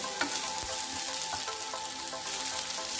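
Bitter gourd fries and hisses in coconut oil alongside chillies while a spatula stirs it, giving a constant loud sizzle with repeated scraping strokes against the pan.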